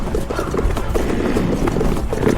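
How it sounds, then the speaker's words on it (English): Horse hooves clip-clop in a quick, even rhythm as a horse passes close by, fairly loud and steady, with faint background noise underneath. "That horse, as it comes by, Vince."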